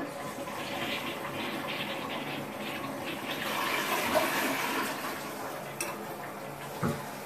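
Septic-treated household toilet flushing: a steady rush of water swirling and draining for several seconds, swelling slightly midway, with a couple of small knocks near the end and no talking.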